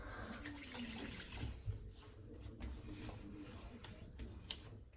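Aftershave splashed by hand onto a freshly shaved face during a wet shave, a few wet slapping splashes over steady running-water noise, close and fairly quiet.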